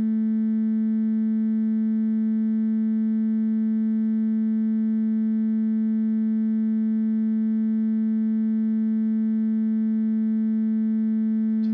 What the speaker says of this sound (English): just to make sure it is actually a sine wave coming out or going in